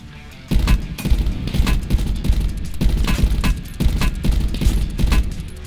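Rapid gunfire in the video game Call of Duty Black Ops 4 Blackout mode, a loud, close series of sharp shots in fairly regular bursts.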